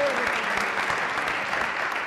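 A Turkish TV game show studio audience claps in a dense, steady burst of applause that holds at an even level throughout.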